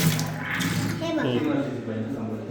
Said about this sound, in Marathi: इकडे बघ एवढ्या फास्ट पाणी असते